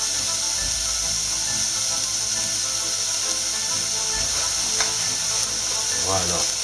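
Rice hits melted butter in a hot pan and a steady, loud sizzle fills the whole clip, close and continuous, with faint scraping stirs and a few soft clinks near the end.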